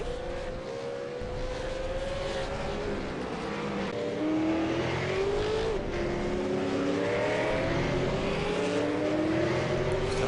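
V8 Supercar racing at Okayama circuit, with several engines rising and falling in pitch through gear changes, loud and steady throughout, one car braking hard before overtaking into sixth place.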